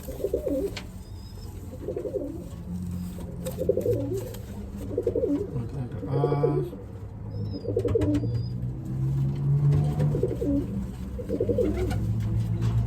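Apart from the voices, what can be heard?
pigeons cooing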